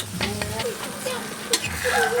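Egg frying in a pan with a constant soft sizzle, close by, while a voice speaks and faint utensil scrapes come through.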